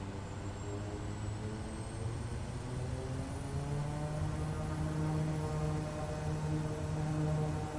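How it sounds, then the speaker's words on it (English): Light propeller airplane engine in a flight game held at full throttle for takeoff, a steady loud droning hum whose pitch rises slightly as it runs, with no talk over it. "So we'll turn off our parking brake and we'll go full throttle."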